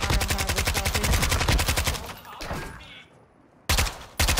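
Rapid automatic gunfire in a multiplayer shooter game rattles loudly in a steady stream for about two seconds, drops to a quieter gap, then resumes with fresh sharp bursts near the end.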